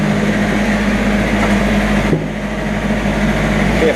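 Ransomes ride-on lawnmower engine idling steadily in a close, even drone with a constant low hum, a brief dip partway through, no voices.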